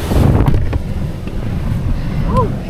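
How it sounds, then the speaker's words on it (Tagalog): Strong wind on a mountain road in Apayao, Philippines, buffeting the microphone in low, roaring gusts, with faint background noise and no clear speech. "mahangin na masyado pa"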